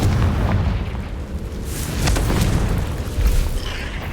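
A fiery Confringo spell blast in the video game Hogwarts Legacy, heard as a loud, continuous booming rumble with overlapping bursts and no clear pauses, close and dense, with no voice over it.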